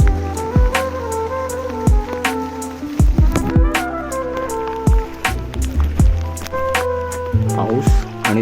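Rain falls in fog at Bhimashankar, drops pattering and splashing on nearby surfaces in irregular bursts, loud and close, with a voice audible in the background.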